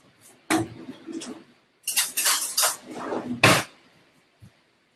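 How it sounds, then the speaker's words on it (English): Someone grabbing a serving spoon in a kitchen: several close bursts of rummaging, clinking utensils and a cupboard or drawer knock, separated by short silences. "Let me just grab a serving spoon."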